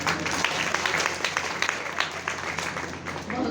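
An audience claps at a Hindi poetry recital, a steady wash of many hands that stays fairly even for a few seconds with no voices over it.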